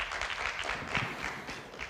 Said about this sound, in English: Can I have another round of applause, please?